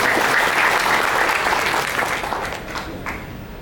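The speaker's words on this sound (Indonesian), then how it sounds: "tepuk tangan" Audience applauding at a political party regional meeting in Lampung, a dense, loud wash of clapping that fades slightly toward the end.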